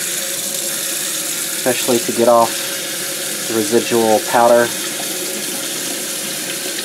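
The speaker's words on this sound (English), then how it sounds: "It's been over 24 hours, so it's time for the washout. We'll start with cold water," Cold tap water runs steadily and loudly into a sink, rinsing out ice-dyed tie-dye fabric, a constant close hiss throughout while a person speaks over it.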